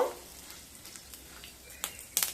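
Whole cumin, mustard seeds and asafoetida sizzling in hot oil for a Bengali beans and potato masala fry, a faint steady crackle with a few sharper pops toward the end.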